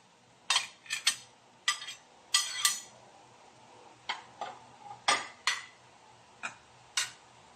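Banana heart and santol pieces dropping into a cooking pot, making a series of short, sharp clinks and knocks at an irregular pace, close up and fairly quiet.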